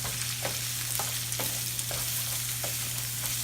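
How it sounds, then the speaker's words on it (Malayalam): Small onions fry in oil for a homestyle chicken curry, with a dense, continuous close sizzle and regular scraping stirs about every half second under a low steady hum and no talk. "അപ്പോൾ ഈ ഉള്ളി നന്നായിട്ടൊന്ന് മൂക്കണം"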